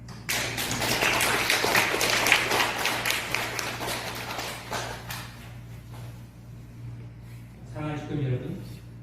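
A church congregation claps in thanks and celebration, a burst of applause that thins out after a few seconds, followed by a voice speaking over a steady low hum.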